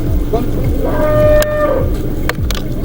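A cow gives a loud, close, drawn-out moo, with a crowd handing out kites at a Good Friday gathering in the background.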